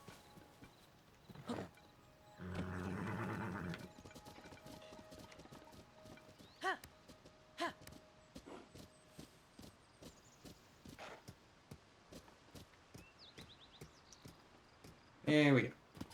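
Horse in the Tears of the Kingdom video game, with scattered hoof clip-clops and short bursts of movement, a brief whinny near the end, fairly quiet against a game background.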